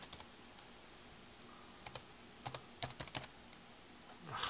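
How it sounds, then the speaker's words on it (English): Typing on a computer keyboard with one hand in a Word document, sparse irregular key clicks, close and fairly quiet, with small clusters of taps separated by pauses. "typing with one hand is hard."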